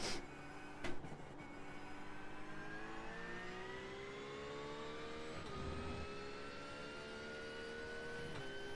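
A racing video game car engine revs steadily upward through the gears, its whine climbing in pitch with brief dips at shifts, continuous and alone at a moderate level.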